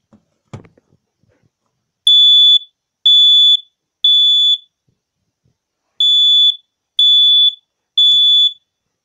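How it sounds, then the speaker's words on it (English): A Family Guard FG200 smoke detector sounds six loud, shrill electronic beeps in two groups of three, following a brief knock or thump at the start. "here's the Family Guard FG200"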